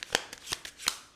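Tarot cards being shuffled by hand, several quick riffling bursts with short pauses between them, close and fairly quiet with no talking.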